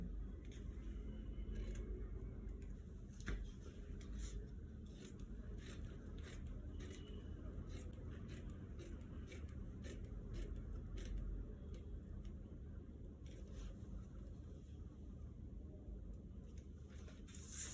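Scissors cut fabric for a baby gown in a quiet room, a string of small, crisp snips repeating at an irregular pace, faint and close over a low background rumble.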